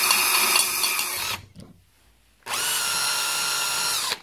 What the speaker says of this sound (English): That's the pilot drill hole drilled.